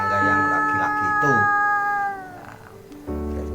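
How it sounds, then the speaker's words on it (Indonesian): Two cats, Blacky and a neighbour's tomcat, face off with loud, drawn-out yowling and caterwauling close by, rising and wavering cries that break briefly before resuming. "Akhirnya terjadi pertarungan antara si Blacky dan kucing tetangga yang laki-laki itu"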